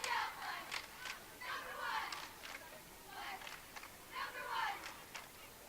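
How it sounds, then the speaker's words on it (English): Cheerleaders at the Maritime Days parade shouting a rhythmic cheer from a distance, in bursts of chanted voices with short pauses, faint against the outdoor parade background. "They're going to do a cheer for us, I think."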